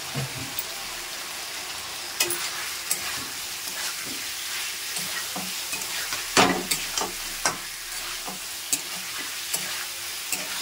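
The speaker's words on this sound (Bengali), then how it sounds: "দিয়ে আবার একটু মশলা দিয়ে কষিয়ে নেবো আমি সুন্দর করে" Spices and dried red chili powder fry in a pan with vegetables, a soft continuous sizzle broken by irregular clicks and scrapes of a spoon stirring, one sharper knock midway.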